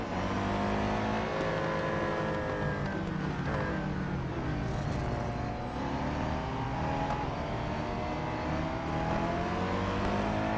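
Engine of a Lamborghini R3 Spec race car in the Real Racing 3 video game, a steady, droning, high-revving roar with shifting engine tones, heard alone.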